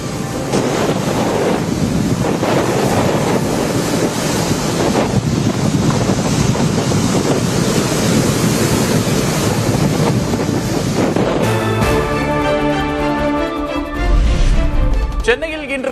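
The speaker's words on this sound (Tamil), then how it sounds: "சென்னை மெரினா, பட்டினப்பாக்கம் மற்றும் காரைக்கால் பகுதிகளில் கடல் சீற்றம்" Rough sea waves and strong wind during Cyclone Ditwah along the coast at Chennai's Marina and Pattinapakkam and at Karaikal roar in a loud, steady wash with heavy wind buffeting the microphone, while music takes over near the end.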